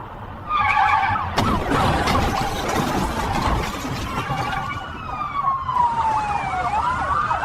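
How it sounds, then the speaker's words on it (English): Police cruiser sirens wail on a US road, rising and falling continuously over a rumble of traffic, with a long sweeping tone growing clearer toward the end. "Sirens wail as police cruisers."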